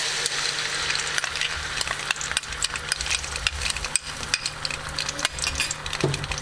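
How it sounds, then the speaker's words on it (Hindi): Ginger garlic paste, three tablespoons, frying in hot oil for a chicken white karahi, giving a loud, steady sizzle with crackling pops and scraping stirs, alongside a low hum that sounds like a stove or extractor fan. "तेल गर्म हो चुका है, अब मैं 3 tablespoons डालूँगी अदरक लहसुन का पेस्ट।"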